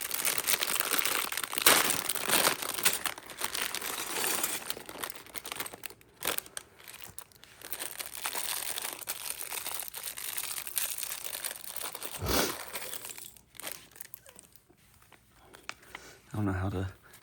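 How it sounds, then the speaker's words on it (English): Curled paper LEGO instruction booklets from a Star Wars TIE Fighter set are pressed and flattened by hand, with repeated close crinkling, rustling and crunching of paper and a few quieter pauses between bursts. "I don't know how to flatten out these instructions very well."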